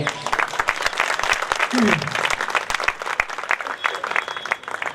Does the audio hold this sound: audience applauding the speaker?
yes